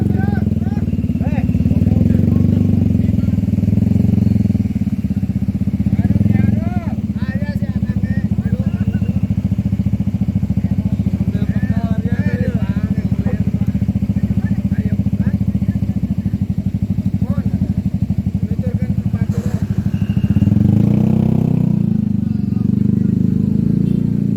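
A motorcycle engine idles and putters steadily throughout, with people talking over the running motor.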